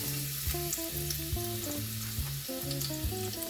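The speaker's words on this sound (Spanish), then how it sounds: "Y vamos a agregarle el ajo." Garlic fries in very hot oil, a steady close sizzle and crackle that stays even throughout with faint background tones beneath.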